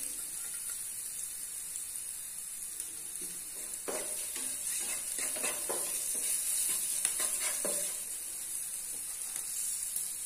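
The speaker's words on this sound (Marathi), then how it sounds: "चांगलं मी परतून घेते।" Potatoes sautéing in a pan: a constant bright, hissing sizzle with soft stirring scrapes and taps in the middle, close and steady, with no talking.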